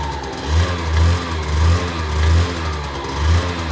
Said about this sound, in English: raise the revs of the throttle